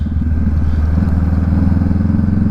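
A Honda Rebel 500 motorcycle rides on, its engine producing a loud, steady, close rumble with a fast pulsing throb throughout and no speech.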